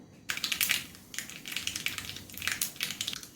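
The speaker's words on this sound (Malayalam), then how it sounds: "ഇതിലേക്ക് 1 ടീസ്പൂൺ കടുക് ഇട്ട് കൊടുക്കുന്നുണ്ട്" A teaspoon of mustard seeds splutters in about three teaspoons of hot coconut oil for a yellow cucumber curry: rapid, close, crackling pops in dense bursts over a faint sizzle.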